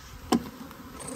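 Honey bees in a strong commercial pollination hive hum in a steady, close buzz, with one brief louder surge near the start.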